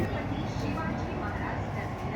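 A Mumbai Metro Line 3 underground train rumbles steadily in a dense, continuous low roar with hiss on top, heard from inside the carriage, with a voice speaking over it.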